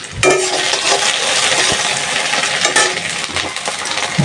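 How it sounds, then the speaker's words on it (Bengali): Bitter gourd frying with onions in a hot pan gives a loud, steady, close-up sizzle that runs unbroken throughout, with a few faint stirring knocks. "প্রথমে করলা ভাজিটা বসাই দিলাম করলা ভাজিটা বেশি করে পেঁয়াজ দিয়ে ভাজি করলে খেতে ভালো লাগে"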